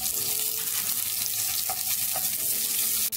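Shallots sizzle in hot oil with cumin and mustard seeds for a sambar, a steady, close crackling hiss that carries on alone without pause.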